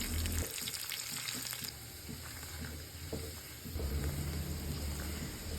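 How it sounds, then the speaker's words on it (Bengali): Dried chillies, chopped garlic and onion fry in hot oil for a bottle gourd dal tempering, a continuous close sizzle with stirring scrapes and clicks that briefly softens midway, then swells again. "এটা ভালো করে নেড়ে একদম ভাজা ভাজা করব।"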